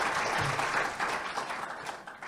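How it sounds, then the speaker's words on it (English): Applause from the audience at a local history panel in Eufaula, Alabama, a dense, steady round of clapping that starts strong and gradually thins and fades over a couple of seconds. "let's give these gentlemen a round of applause"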